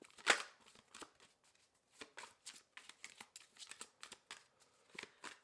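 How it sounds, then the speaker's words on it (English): An oracle card deck is shuffled by hand in a tarot reading setting, giving a close, crisp run of riffling and slapping bursts in an uneven rhythm with short pauses. No one speaks. "We got one more oracle deck to shuffle before we move into the tarot."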